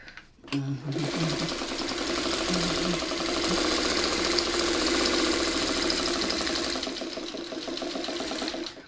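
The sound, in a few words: sewing machine stitching quilt block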